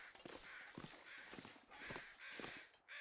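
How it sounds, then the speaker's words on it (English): Crow-like cawing birds in the survival game The Long Dark, several harsh caws repeating at a steady rhythm over a constant wind-like background, moderately close. "Did I just hear another one of those little fucking birds?"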